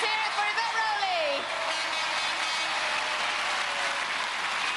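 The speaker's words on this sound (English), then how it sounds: "Let's hear it for Yvette Rowley." A television studio crowd at a 1996 Gladiators UK semi-final applauds and cheers a contender, a loud sustained wash of clapping with a voice heard briefly over it near the start.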